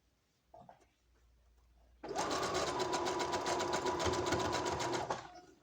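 A sewing machine zigzag stitches through elastic on panties, running steadily for about three seconds after a soft handling noise, close and fairly quiet with a rapid even needle rhythm.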